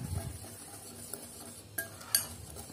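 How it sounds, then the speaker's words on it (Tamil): Banana pancake batter stirred in a bowl, heard as a soft, close, steady scraping with a few light clinks of the utensil against the bowl. "இப்போ இதை நல்லா மிக்ஸ் பண்ணிக்கலாம்."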